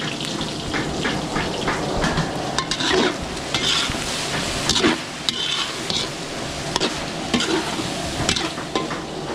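Pork, carrots and potatoes fry in a pan, sizzling steadily while a utensil stirs and scrapes through them in repeated sharp strokes, loud and close with no talking.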